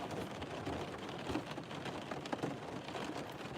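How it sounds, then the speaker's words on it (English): Rain falls outside with a steady, close hiss of drops and a few louder patters, continuous and uninterrupted by any voice. "That was my ASMR for the rain."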